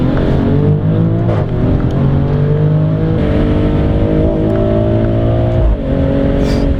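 A Maserati Grecale Trofeo engine revs hard and climbs through close-ratio gears, with repeated quick rises and drops in pitch and small pops as it shifts, loud and close throughout.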